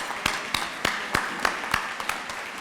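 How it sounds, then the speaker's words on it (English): Commencement ceremony audience applauding the faculty, with a steady spatter of clapping punctuated by roughly regular louder claps, moderately close. "give them a round of applause as well"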